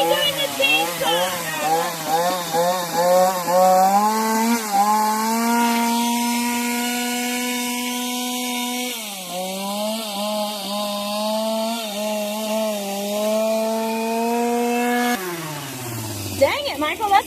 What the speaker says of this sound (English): Wiley, you shouldn't be doing the chainsaw